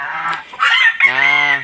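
Geese call at a farmhouse yard, a couple of loud, close honking cries in quick succession, one short and raspy, the next longer and brassy.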